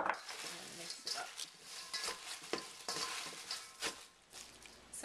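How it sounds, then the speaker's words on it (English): Cabbage being tossed and mixed with salt in a large bowl for kimchi, giving soft continuous rustling and crunchy scraping with irregular louder handling bursts, fairly quiet. "give a generous sprinkle of salt and mix it up"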